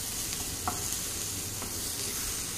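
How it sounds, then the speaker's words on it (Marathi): Tamarind and tomato roast in a pan with a soft, steady sizzle, heard up close. Occasional light stirring scrapes and taps sound over the frying, with no talking. "हे असं छानपैकी आता भाजून घ्यायचं आहे"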